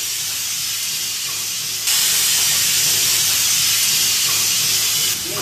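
Beetroot paste and ground garlic fry in a pan with a steady, close hiss that jumps louder partway through and holds at an even level, with no voices.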